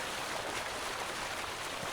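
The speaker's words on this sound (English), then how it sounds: "the sound of the waterfall, and whatever other lovely sounds you can find here." Waterfall in the video game Farming Simulator 19, a steady, faint broadband rush of falling water with no other sounds and no talking.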